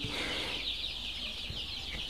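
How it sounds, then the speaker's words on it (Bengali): Tiger breed chicken chicks on a farm, peeping in a soft, continuous high chorus against low background rumble, fairly faint and steady throughout. "এখানে যে টাইগার মুরগির বাচ্চাগুলো দেখতেছেন, এগুলো অরিজিনাল টাইগার।"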